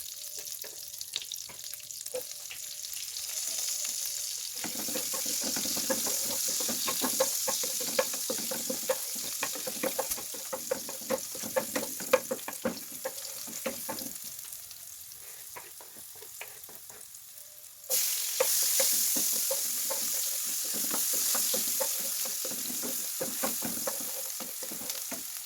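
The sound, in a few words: garlic and onion sautéing in oil and butter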